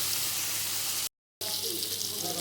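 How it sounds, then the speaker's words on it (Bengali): Steady, close frying sizzle of paneer in a pan, broken by a brief dead-silent gap before the hiss resumes. "দেখো পনির ভাজা হয়ে গেছে"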